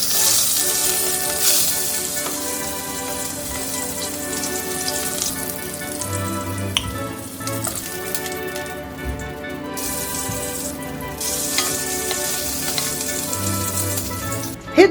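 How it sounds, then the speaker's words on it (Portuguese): Pork ribs sear in a hot pan with a steady, loud sizzle that crackles and spits continuously, with occasional shifts as pieces are moved. "selar algumas costelinhas por vez"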